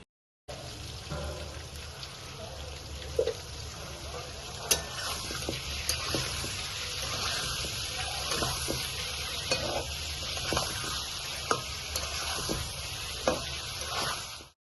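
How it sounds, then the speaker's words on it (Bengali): Pointed gourd (potol) frying in oil in a pan for a prawn curry, with steady close sizzling throughout and repeated scraping stirs and light clinks of the spatula against the pan. "ওইদিকে দেখুন আমার পটলগুলো কিন্তু মোটামুটি ভাজা হয়ে প্রায় এসেই গেছে"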